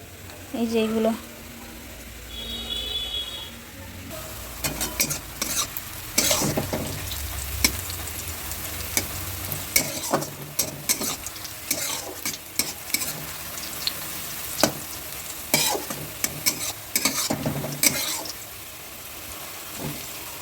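Onions fry in a pan for biryani, a steady close sizzle broken by repeated scraping and stirring clatter, with a voice talking at times.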